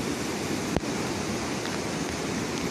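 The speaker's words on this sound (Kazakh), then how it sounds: "бүгін осылай жаңбыр болып, мынандай сел болып жатыр" Flash flood water after heavy rain, rushing through gardens in Maktaaral, South Kazakhstan, as a steady, dense, close roar of churning water with one brief knock partway through and no voices.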